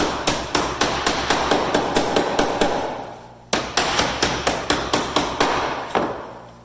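Hammer blows flatten the creases of a sheet metal box, a fast run of sharp ringing strikes, a short pause, then another quick run, loud and close.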